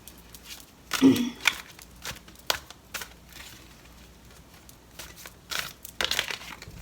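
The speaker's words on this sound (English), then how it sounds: "And one more of this kind of shuffling." Tarot cards being shuffled by hand during a Virgo love reading, a few soft riffling and rustling bursts scattered across the stretch, quiet and close, with no talking.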